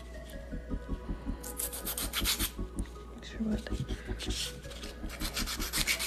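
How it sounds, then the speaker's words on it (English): Steady, rapid rasping strokes of a nail file shaping a hard gel stiletto nail scrape close by, repeating in quick bursts with a faint low hum underneath. "But I have to file this one out."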